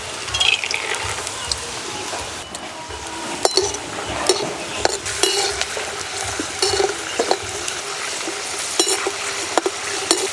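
Peanuts sizzle in hot white oil in a kadai while a spatula scrapes and stirs, with frequent metallic clinks against the pan, close and steady.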